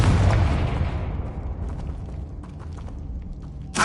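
Blast of the fiery Confringo spell in the wizarding game Hogwarts Legacy: a loud booming burst that decays into a rumbling tail, followed by a sharp new burst at the end.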